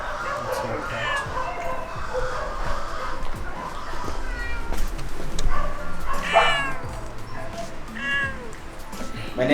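At a Kenyan animal welfare shelter, a cat meows several times in rising, drawn-out calls while dogs bark and whimper nearby and people talk in the background.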